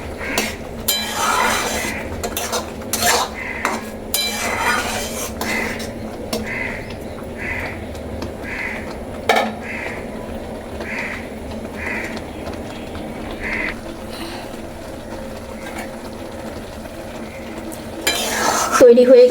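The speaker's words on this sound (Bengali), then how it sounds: "দিয়ে দিচ্ছি কাজু বাদাম, কিশমিশ, সব একবার ভালো করে মিশিয়ে নেব।" Cashews and raisins get stirred into a tomato chutney in a pan, with a spoon scraping and clinking in a steady repeated rhythm over a soft, constant sizzle, close up and with no voices.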